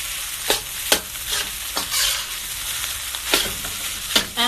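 Egg and rice frying in a pan, a loud steady sizzle broken by repeated scraping strokes of a utensil stirring and chopping through the mixture, close and without speech.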